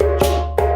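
Djembe call played Guinea style, ending in slaps: a few sharp, bright hand strikes in quick succession, close and fairly loud, with no voices.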